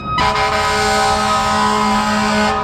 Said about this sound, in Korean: 저 소리는 딱 소방차 소리거든요